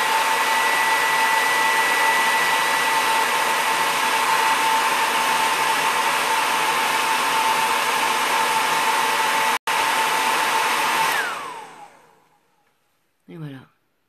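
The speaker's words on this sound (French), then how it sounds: "le sèche-cheveux, on l'allume, on le met en dessous, hop, et il va aider à recourber les cils" A hair dryer blows steadily and loudly, held beneath the lashes to help curl them, then cuts out with a short falling whine near the end, followed by a brief noise.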